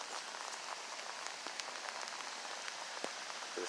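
A light rain shower outdoors patters steadily on surfaces, with scattered close drops ticking over a continuous soft hiss and no talking.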